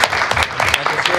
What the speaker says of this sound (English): An applause right there.